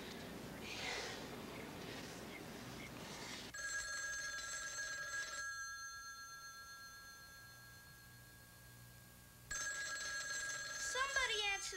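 Telephone ringing in a home in the 1977 film, repeated electronic ring tones sounding in bursts at moderate loudness amid room noise, with voices and a bird-like chirp near the end.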